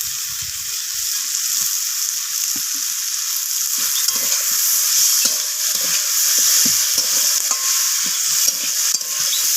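Bitter gourd and leafy greens stir-fry with ginger paste and salt in a village-style Bengali dish, a loud steady hiss of frying under irregular soft scrapes and taps of a stirring spoon.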